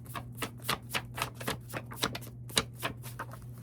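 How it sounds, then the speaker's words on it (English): A deck of cards is shuffled in a rapid run of crisp riffling clicks and taps, close and fairly quiet, over a steady low hum, with no talking. "All right, last shuffle."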